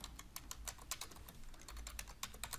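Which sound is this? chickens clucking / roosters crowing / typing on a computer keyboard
typing on a computer keyboard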